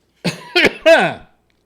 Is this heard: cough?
yes